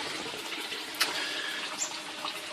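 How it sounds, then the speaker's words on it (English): Water flows into a hydroponic grow bed filled with about 600 litres of gravel, a continuous nearby rushing and gushing with a few small splashes, heard alone without speech. "Water comes in over there."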